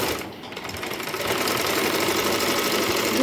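A sewing machine rapidly stitches the necks of a nightie yoke, a close, steady mechanical clatter of fast needle strokes that runs without pause and without speech.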